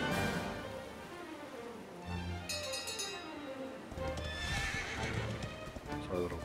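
A horse in the Dragon Quest XI video game neighs loudly, then hooves clip-clop steadily at close range, with a bright chime ringing briefly midway and soft game music underneath.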